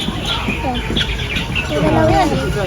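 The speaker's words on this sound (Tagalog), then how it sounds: "Dito na ibon." Birds call at Taipei Zoo, short clucking and chirping notes repeating in loose bursts close by, with people talking over them throughout.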